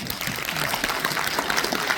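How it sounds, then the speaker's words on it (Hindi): Audience at a family celebration event clapping for an HR colleague, dense sustained applause filling the whole moment, close and fairly loud. "एक बार गुप्ता जी के लिए ताली हो जाए।"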